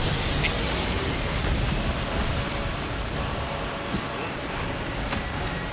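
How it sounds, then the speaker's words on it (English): Steady rain in modded Skyrim falls in a continuous dense hiss, with a few faint distant rumbles underneath and no voices. "Thank Akatosh for the rain."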